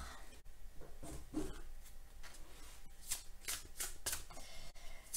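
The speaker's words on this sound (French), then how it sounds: "je bats les cartes et je prends uniquement celles qui sautent" Tarot cards being shuffled by hand, a soft repeated riffling and rubbing of card stock at close range, the bursts of flicking coming quicker and crisper toward the end, with no talking.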